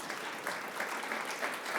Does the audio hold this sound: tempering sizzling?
no